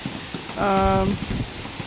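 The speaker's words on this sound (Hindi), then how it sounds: "बारिश हो रही है बहुत ज़्यादा" Heavy rain pours down in a dense, steady hiss that fills the scene, with a person speaking briefly over the downpour.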